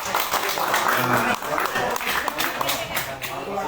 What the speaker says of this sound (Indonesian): Tepuk tangan buat Pak Sudik.